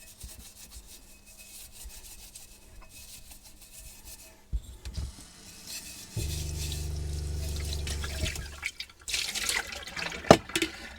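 Water runs from a kitchen tap for washing dishes. After quiet handling noises it flows in a steady, hissing stream for a couple of seconds, then stops, and some clatter follows.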